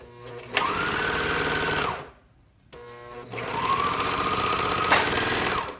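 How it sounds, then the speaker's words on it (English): A serger sewing machine runs two short bursts of stitching, each a loud, fast mechanical whir with a rising and falling motor pitch, separated by a brief pause, close by and with no voices. "And I run a couple stitches to make sure that it looks good."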